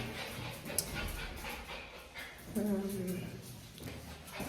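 A dog heading out for a walk gives soft whimpers and yips, a couple of short sharp calls close by, under a person talking in French.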